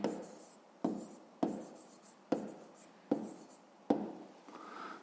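A pen or pencil scratches across paper in six distinct strokes while a math exercise is written out by hand, each stroke starting sharply and fading, close and fairly quiet with short pauses between.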